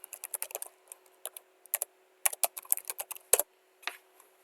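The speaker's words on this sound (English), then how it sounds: "I'm going to type in YouTube Studio." Rapid, irregular keystrokes on a computer keyboard, typed in short bursts with brief pauses between them, close and fairly quiet, with no voices.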